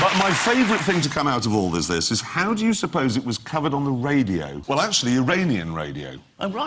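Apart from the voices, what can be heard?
No everyday noises stand out.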